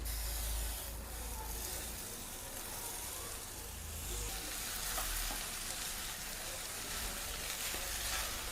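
Fenugreek leaves being sautéed with onions in a pan for a dried-methi dish, a steady close sizzle with continuous stirring and scraping throughout, no talking.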